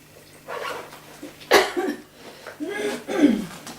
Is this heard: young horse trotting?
no